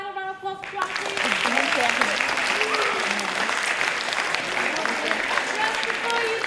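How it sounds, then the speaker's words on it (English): A school audience gives a final round of applause, a brief musical tone fading out just as dense, steady clapping starts and holds strongly to the end. "Can we have a final round of applause for Joanna, please?"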